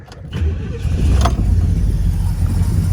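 A 1967 Pontiac GTO engine cranks and fires up, settling into a loud, deep, rumbling idle close by with no talking.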